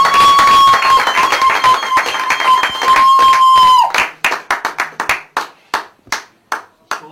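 Church congregation clapping to acclaim the Lord, first a dense loud round of clapping under a sustained tone, then settling into slower, distinct rhythmic claps that ring out close and strong.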